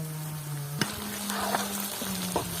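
Fresh Barishal canal prawns going into hot soybean oil with fried onion and green chili, a steady crackling sizzle with a few stirring knocks and a sustained low hum throughout, no voices.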